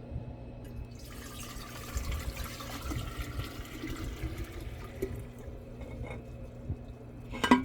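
Water pours and trickles into a glass jar for several seconds, a bubbling, splashing fill that ends with a couple of sharper clinks or drips.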